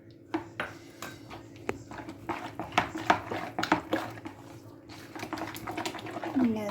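Vegetable pancake batter with cabbage, ginger, garlic and curry leaves being stirred in a bowl, heard as irregular close scrapes and clinks of a utensil against the bowl, with a few louder knocks.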